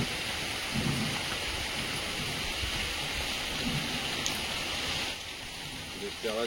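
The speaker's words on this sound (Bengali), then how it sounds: "বৃষ্টি খুব জোরে চলে এসেছে।" Heavy rain pours down in a dense, steady roar of water that fills the whole stretch and eases slightly near the end, with faint voices under it at times.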